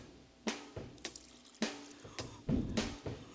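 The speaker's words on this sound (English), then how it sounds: "We're going to pour a libation for them." Liquid poured out as a libation at a remembrance, splashing and dripping in short irregular bursts with little pauses, close and moderately loud, with no talking.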